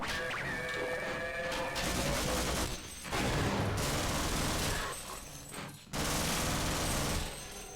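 Loud crashing blasts and gunfire-like bursts from the first-person shooter Half-Life, a train-riding sequence, arriving in several heavy surges separated by brief drops, with no talking.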